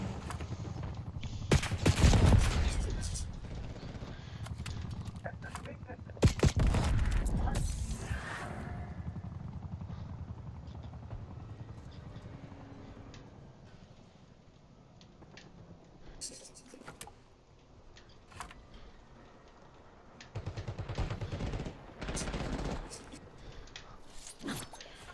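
Video game gunfire crackles in bursts of rapid shots, loud at the start and again near the end with quieter stretches between, while a player's voice comments intermittently.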